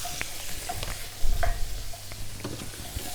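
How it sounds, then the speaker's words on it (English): Chicken casserole being stirred in a pot, with scraping, clinking spoon strokes at an irregular pace over a low bubbling sizzle, close and fairly quiet. "Now we stir all this together. So give it a nice stir, and you can see all the lovely sediment there."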